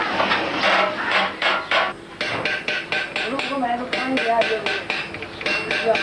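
Tin plate being hammered into century-old decorative patterns as reinforcement on wooden truck bodywork, a brisk series of sharp metallic taps in uneven rhythm, close and fairly loud, with a few ringing notes between strikes.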